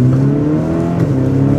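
An Audi SQ5 engine pulls hard and revs under acceleration, a steady loud drone with rising harmonics that carries through the whole short moment with no talking.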